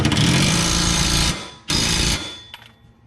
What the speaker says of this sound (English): And then I just torque it down until it stops spinning.